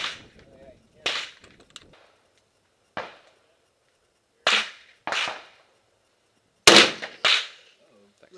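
AK rifle gunshots ring out outdoors, several loud, sharp cracks spaced a second or two apart, some in quick pairs, each trailing a brief echo.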